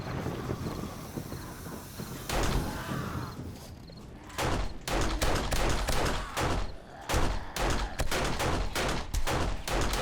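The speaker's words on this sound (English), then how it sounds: "Oh, here we go. Cops exploding everywhere." Zombie cops blowing up during a horde night in a survival video game, a rapid run of sharp explosive bursts following one another with a steady windy rumble beneath, loud and close.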